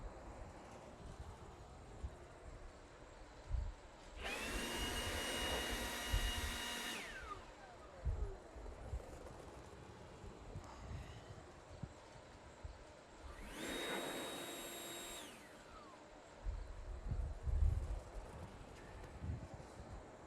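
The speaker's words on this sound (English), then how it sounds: "the launch of our next generation M18 FUEL Blower" A Milwaukee M18 FUEL cordless leaf blower runs in two bursts of roughly three seconds each, a loud whooshing airflow with a high whine that rises on start and falls away on release. Quieter background noise separates and follows the bursts.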